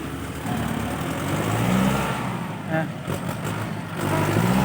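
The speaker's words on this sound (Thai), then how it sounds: "รถไถก็วิ่งตามเลย" A farm tractor's engine runs steadily at mid pitch, rising in revs as it drives along close by, with people talking over it.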